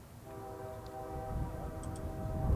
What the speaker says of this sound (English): With that second train, M331, just about to arrive at our grade crossing